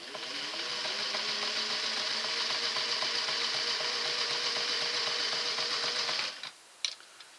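A Singer Model 603 sewing machine stitches steadily and loudly for about six seconds, a fast rhythmic mechanical whir with ticking clatter, then stops abruptly, followed by a couple of faint clicks.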